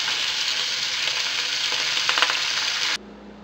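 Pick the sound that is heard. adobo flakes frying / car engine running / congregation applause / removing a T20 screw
adobo flakes frying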